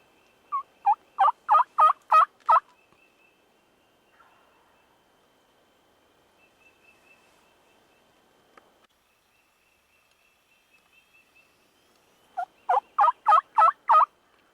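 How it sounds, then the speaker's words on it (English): A wild turkey gobbler gobbles outdoors: a rapid burst of loud rattling gobbles, a long quiet stretch with faint background sounds, then a second matching gobble burst near the end. "we got the gobbler just to the left over here"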